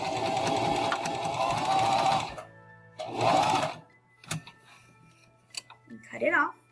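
A sewing machine stitches a zipper onto a fabric pouch in fast, dense bursts of whirring needle strokes, stopping and starting with short pauses, sharp clicks and handling noises between runs.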